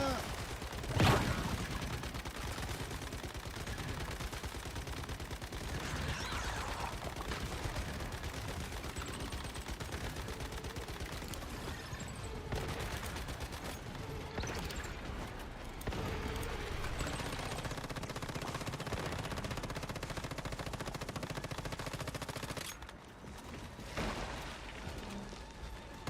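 Sustained gunfire in the video game Once Human runs almost nonstop, loud and dense with a sharp burst near the start, while a voice calls out over the shooting.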